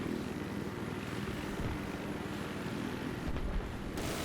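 Helicopter in Battlefield 3 on the Noshahr Canals map, a steady whirring rotor and engine drone held close and loud throughout, with a brief burst near the end.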